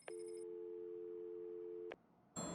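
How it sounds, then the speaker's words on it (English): A telephone rings in the video game Batman Arkham City, one long steady electronic ring tone that cuts off and then gives way to a burst of noise. "There's a phone ringing somewhere."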